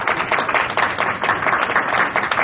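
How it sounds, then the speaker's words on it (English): Audience applause for panelists at a League of Women Voters of Santa Maria Valley fact-finding forum on education, a dense, steady wash of many hands clapping close by for the whole stretch. "We can give them a round of applause."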